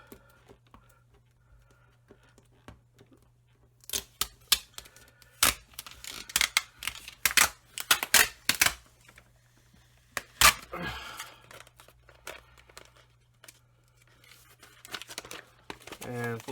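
Tape-backed paper target peeled up by hand indoors, giving a run of crinkling, tearing bursts of varying loudness, close by, with quieter stretches between and a steady low hum underneath.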